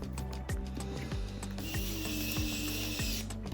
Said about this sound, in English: now take a screwdriver, screw, and screw it back in